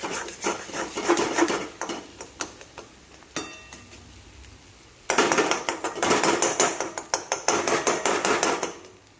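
Egg bhurji is stirred in a pan on the stove, giving rhythmic metallic clatters and scrapes. A quieter pause comes midway before the stirring resumes more vigorously. No speech.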